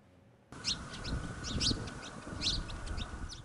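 Birds chirp and chickens cluck in an abandoned coastal village near Midi, Yemen, with a few sharp calls standing out over steady, close outdoor ambience.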